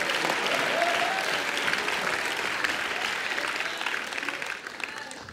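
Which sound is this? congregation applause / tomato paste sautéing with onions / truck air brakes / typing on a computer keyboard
congregation applause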